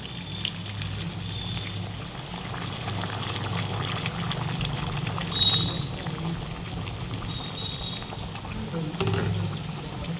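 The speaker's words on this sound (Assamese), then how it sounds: "এতিয়া দি দিম গৰম পানী।" Hot water pours into a pan of chicken curry simmering on a low flame, a steady close watery rush lasting throughout with a brief louder splash midway and another near the end.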